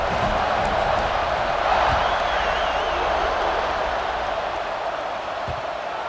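A steady, broad roar rises from the stadium crowd in EA Sports College Football 26 during a Georgia game, swelling slightly partway through and then holding as a continuous background wash.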